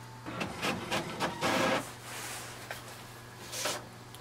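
An HP Envy 7155 printer runs a copy of a test page, giving a series of close mechanical rasps, whirs and feed clicks in bursts over a steady low hum, with no talking.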